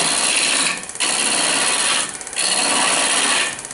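A knife carves a wooden water dipper, taking big bites with three long, loud, rasping strokes that each end in a short pause as shavings peel away.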